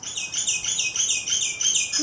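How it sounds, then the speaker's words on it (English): Small birds chirp and tweet steadily around a garden bird bath, a continuous busy chorus of bright repeated calls close by, with no talking. "Listen to those birds."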